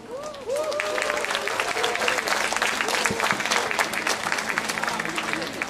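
An audience at a Mek Mulung Kedah traditional performance event bursts into sustained, dense applause, a continuous wash of clapping with a few voices and faint tonal sounds mixed in.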